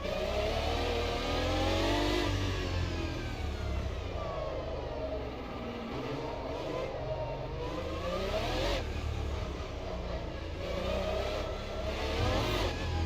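A race car engine in the racing game Automobilista 2 revs and shifts through rising and falling pitch sweeps, loud and close, layered over low rumbling mechanical noise.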